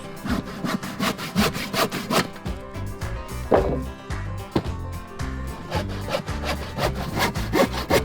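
A hand saw rasps steadily through a fully dry wooden board in quick back-and-forth strokes, close and loud, with a rhythmic scraping texture and no talking.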